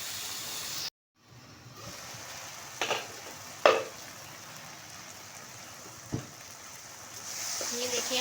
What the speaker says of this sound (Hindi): हम इसको सही तरीके से भूनेंगे।